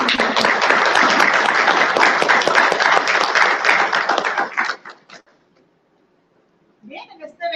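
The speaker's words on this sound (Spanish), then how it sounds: "Les pido por favor un aplauso a todos nuestros invitados antes de iniciar." An audience at a civil society legislative dialogue event applauds invited guests with dense, sustained clapping for about five seconds, then fades to silence before a voice begins speaking.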